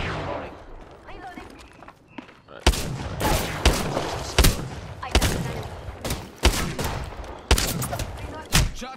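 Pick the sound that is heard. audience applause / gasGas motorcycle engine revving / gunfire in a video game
gunfire in a video game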